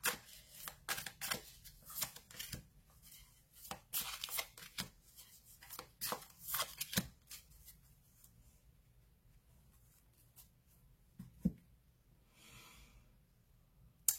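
Tarot cards shuffled by hand during a card reading, with repeated soft riffling and slapping bursts in the first seven seconds, then sparser handling noises and quiet pauses.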